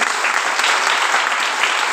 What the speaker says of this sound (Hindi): एक ताली होना चाहिए जबरदस्त तरीके से